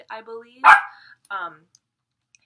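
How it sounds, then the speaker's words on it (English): A pet dog gives a single loud bark close by, with someone talking just before and after. "that's my dog"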